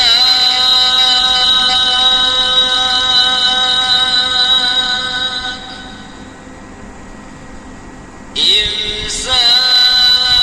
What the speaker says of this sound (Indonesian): itu adalah alarm untuk imsak ya.